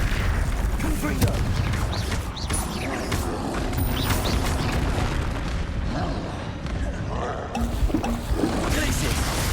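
Booming spell blasts from the Confringo fire spell in Hogwarts Legacy, heard amid a dense, loud wash of combat effects, rumbling impacts and other magical noise throughout, with spoken voices mixed in.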